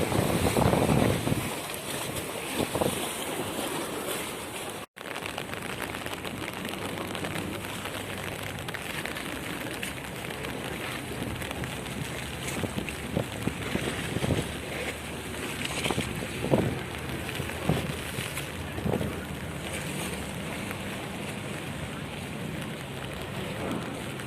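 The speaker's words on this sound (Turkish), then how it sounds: "Vapurumuz gidiyor ileride." Steady wash of wind and water around a ferry moving at sea off the İzmir waterfront, with a constant low rumble and occasional splashes, no voices.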